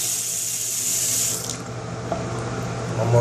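Water runs steadily from a sink faucet after the supply is turned back on, a constant hiss and splash with no voices.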